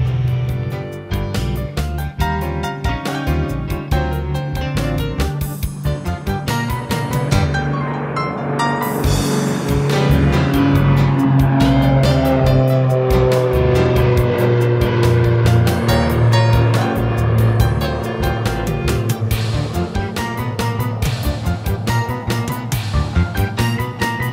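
Engines of a Piper Navajo twin aircraft at full throttle for takeoff, a loud continuous droning roar with pulsing propeller beat that swells and holds steady, heard from close by with no voices.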